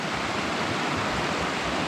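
A rushing mountain stream runs close beside a campsite in the White Goat Wilderness near Oval Peak, a loud, steady broadband wash of water with no break and no voices.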